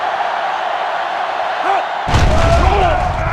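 Stadium crowd at a Virginia Tech at Maryland football game in the NCAA 06 video game, a steady hum that erupts into a loud, deep roar partway through and holds, with a thud at the swell.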